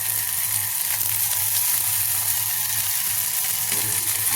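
Manimuni leaves going into hot oil in a pan with fried onion, a steady loud hiss and crackle of frying that carries on without pause.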